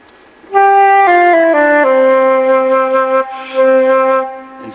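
Low flute notes in a thick, tubby tone, a slow descending line of sustained pitches with a short break before the last held note, played alone and close.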